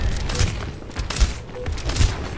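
Gunfire in the video game Overwatch: several rapid, loud bursts of shots and impacts cracking out in quick succession over a busy game background.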